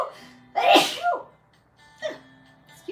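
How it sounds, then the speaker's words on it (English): Two sneezes close by, a loud burst with a sharp follow-up, then a smaller sneeze a moment later in an otherwise quiet room. "I just got the sneezes."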